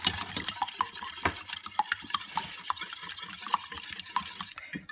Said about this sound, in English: we stir it until all the yellow is mixed in with the white